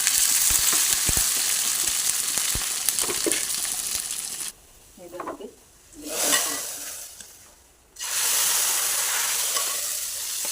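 Shallots and curry leaves sizzle loudly in hot coconut oil for a tempering, a steady bright hiss that drops away briefly while a voice speaks, then surges back up to full strength.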